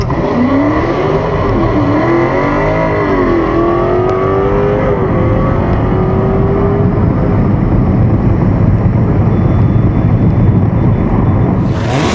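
Loud, continuous car engine roar with rising harmonics, the tires spinning at a drag race launch on a quarter-mile strip, steady and close from start to finish.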